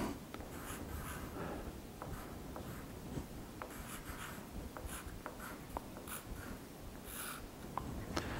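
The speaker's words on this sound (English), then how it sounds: "let me write this out for you here" Someone writes on a board during a children's addition lesson. Short scratchy strokes and taps come in an uneven rhythm for several seconds, close and fairly clear, with no voices.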